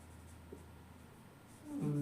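Chalk or marker scratches briefly across a classroom board during an English grammar lesson, a short quiet stroke near the end over faint room hum.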